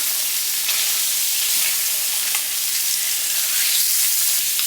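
Spotted sea trout fillets fry in a pan with garlic and butter, giving a continuous close hissing sizzle with occasional crackles and a slight swell near the end.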